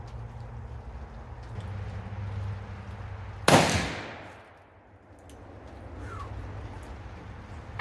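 A BFR .45-70 revolver firing a Hornady 325gr FTX factory load: one loud, sharp outdoor shot midway through, followed by a long rolling decay that fades into quiet ambience.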